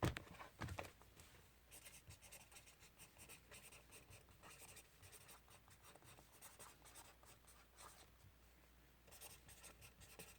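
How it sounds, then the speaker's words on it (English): Pen or pencil writing by hand on paper, a steady faint scratching with short strokes and pauses running throughout, close and quiet, with no talking. "Can I just write it down once more?"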